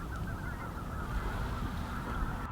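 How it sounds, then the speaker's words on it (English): A distant flock of snow geese honks through mist in a still fall landscape, the calls blurred into a steady, faint chorus with no clear separate notes. "And I could hear a flock of snow geese"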